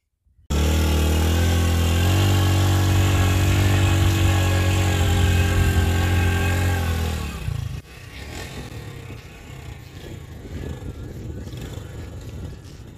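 A motorcycle engine runs steadily at close range, a loud even drone for about seven seconds before it drops to a lower, rougher rumble mixed with outdoor background noise.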